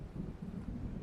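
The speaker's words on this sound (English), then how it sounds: "It seems there's a storm coming." Low, distant rumble of thunder from an approaching storm in a video game, a brief continuous muffled roll with no voices.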